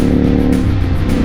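A Triumph Scrambler 1200 motorcycle engine revs loudly and close up, a rough, throbbing burst lasting just over a second.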